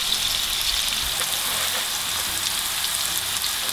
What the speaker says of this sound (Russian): каждой стороны мы обжарим примерно по 2-3 минуты